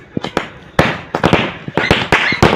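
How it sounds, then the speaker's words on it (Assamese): A bundle of firecrackers set off outdoors, cracking in a rapid, irregular string of sharp, loud bangs, about a dozen close reports with brief gaps between them. "ইয়া বৰ্তমান ফটকা মাৰি আছো"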